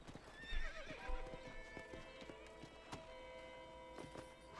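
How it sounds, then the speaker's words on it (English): A hitched horse in the Red Dead Redemption video game clops its hooves in a steady rhythm and gives a whinny, fairly faint against quiet in-game ambience. "All right, we've hitched up our horse."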